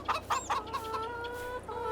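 Chickens clucking in a pen in the Korpi video game, with several short, close clucks followed by a longer drawn-out call, no talking.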